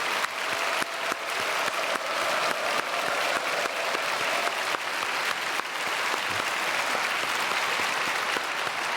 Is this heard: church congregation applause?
yes